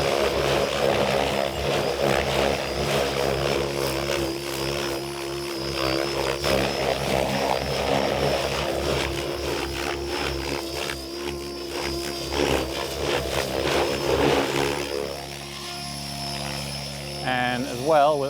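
A radio-controlled 3D helicopter flies aileron tic-toc maneuvers, its rotor and motor giving a loud, continuous whine that swells and dips rhythmically as it rocks back and forth.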